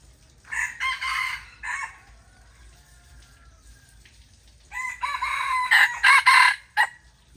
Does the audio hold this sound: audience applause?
no